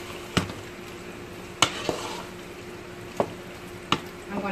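Homemade chili with crushed tomato sauce is stirred in a pot, a soft wet simmering bed broken by four or five sharp spoon knocks against the rim at irregular intervals, nearby and moderately quiet.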